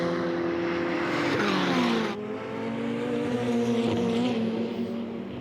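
Ferrari Challenge race cars howl around the Road Atlanta circuit during a Trofeo Pirelli race, a loud sustained engine note that shifts pitch as cars change gear and pass.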